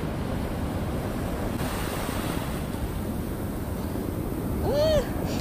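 Ocean surf on the Oregon coast roars as a steady, loud wash mixed with wind buffeting the microphone, and a brief rising whistle-like tone sounds near the end.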